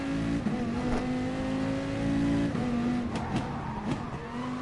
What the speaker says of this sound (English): I'm going to let you hear the engine, hear the revs, hear the braking